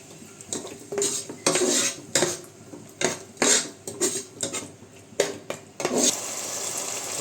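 A spoon scrapes and clanks against a pan while chilli, tomato and soy sauces are stirred together for restaurant-style chilli chicken, in irregular bursts of metallic knocks with a faint sizzle underneath.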